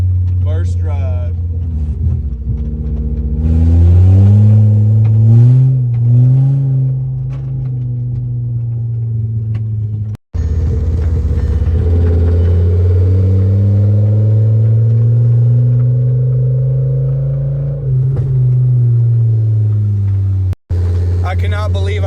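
A rebuilt VW Jetta MK5 with a loose rattle on its first drive, its engine droning and rising in pitch as it accelerates and settles, loud and close from inside the car, with a person talking over it at times.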